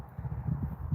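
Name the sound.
brown horse walking, hooves clip-clopping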